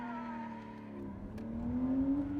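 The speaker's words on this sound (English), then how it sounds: "and this is how people spin tires." Car with a manual transmission, given too much gas and a popped clutch, revs up with a rising engine whine and tire noise that builds louder toward the end; moderately near, no speech.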